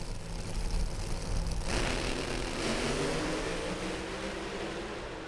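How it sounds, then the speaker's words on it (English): NHRA Pro Modified drag cars, including a Chevy Camaro, race at Gainesville with a loud, sustained engine roar that surges sharply partway through and then holds as a broad, distant-sounding blast. "What a drag race, and Mike Janis pulls it off"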